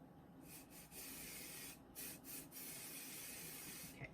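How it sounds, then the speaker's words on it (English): KK2000 temporary adhesive is sprayed onto the back of sticky flock in several short hissing bursts, quiet and close, separated by brief pauses. "now I'm going to take it over and spray the back with my KK2000"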